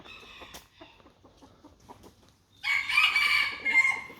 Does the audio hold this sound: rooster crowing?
yes